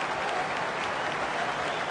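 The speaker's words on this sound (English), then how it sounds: "And generous applause from Saint fans" St Kilda supporters applaud at an Australian football semi-final between St Kilda and Sydney in 2004; a steady wash of crowd clapping, moderately distant, continuing evenly throughout.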